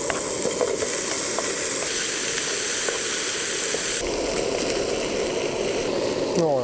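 Sausage and French fries sizzling in a pan over a campfire in Lapland, Finland, a loud, dense, continuous hiss with crackling pops throughout and a brief voice near the end.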